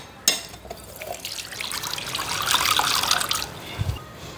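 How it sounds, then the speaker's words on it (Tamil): A coconut cracked open, one sharp crack followed by its water splashing and trickling out steadily for a few seconds, then a couple of soft knocks, no talking. "அடுத்த வந்து நாங்கள் தேங்காயை உடைச்சி எடுப்போம்"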